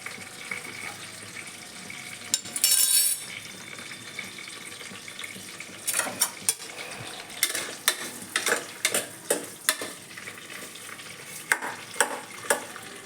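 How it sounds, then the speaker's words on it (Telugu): One onion and three green chillies fry in a pan for chicken biryani, with a soft steady sizzle broken by repeated scraping and clattering bursts of stirring, and no voices. "ఒక ఉల్లిపాయ, 3 పచ్చిమిరపకాయలు బాగా దోరగా యాగాలండి."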